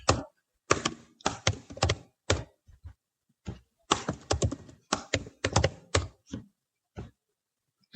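Bursts of keyboard typing as a password is entered on a computer for a timesheet portal sign-up, quick clustered keystrokes separated by short pauses, close and fairly crisp, with no talking.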